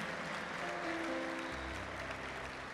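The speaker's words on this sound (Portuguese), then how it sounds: "Dê uma salva de palmas ao Senhor" A church congregation gives a round of applause during a Portuguese-language service. The clapping is faint and distant, forming a steady, dense wash, with soft sustained tones from instruments in the background.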